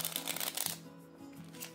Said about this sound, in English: here's my refill shuffle